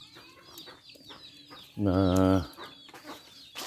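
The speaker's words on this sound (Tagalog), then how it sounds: "So yan po yung pangalawang inahin" A mother hen in a backyard coop gives a loud, drawn-out squawking cluck of about a second amid softer background clucks and bird chatter, with a voice speaking briefly.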